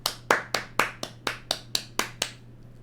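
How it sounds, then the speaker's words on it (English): A single person clapping hands nine times in a steady, evenly spaced rhythm, each clap sharp and close, with a faint low hum underneath and no talking. "sorry, I clapped a bit early there"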